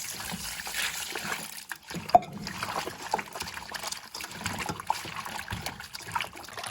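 Raw meat being washed with water for pepper pot, with soft trickling, dribbling and light splashing sounds, fairly quiet and close, continuing unevenly throughout.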